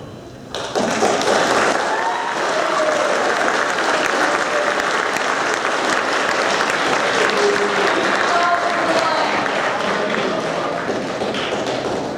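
Audience at a school awards ceremony breaking into sustained, dense applause that starts abruptly and holds loud and steady for over ten seconds, a full room of many hands.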